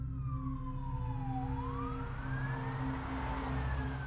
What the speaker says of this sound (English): fire trucks roared down the street with their sirens wailing